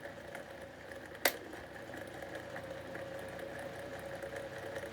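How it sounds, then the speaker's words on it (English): An SMC-made desk fan turning on its lowest speed setting gives a steady, moderately quiet hum with a faint rattle. A single sharp click cuts in near the start. "They are really good fans. So it's the lowest speed setting."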